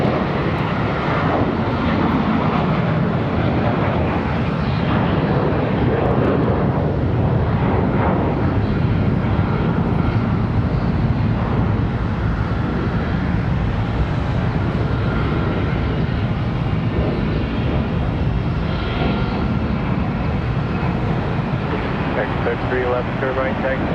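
Aircraft at Charlotte Douglas International Airport produce a steady, loud jet engine roar that fills the whole stretch without a break, with speech-like sounds faintly mixed in.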